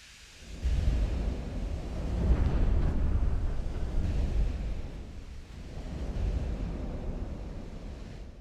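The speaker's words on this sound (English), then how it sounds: "You don't hear the gunfire, you just hear the whoosh of shells. Occasional splunk as they fall into the sea." Naval shells whoosh and splash into the sea in Ultimate Admiral: Dreadnoughts, broad rushing swells of low roaring noise rising and falling like surf, with no distinct gunfire and no voices.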